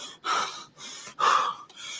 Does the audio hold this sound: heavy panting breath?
yes